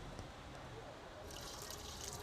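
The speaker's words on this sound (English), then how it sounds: "we're going to take this mixture of alcohol and oil and we're going to go ahead and pour it right directly into our Fry Daddy" A mixture of alcohol and oil is poured into a Fry Daddy fryer, giving a steady liquid splashing and trickling wash that brightens partway through.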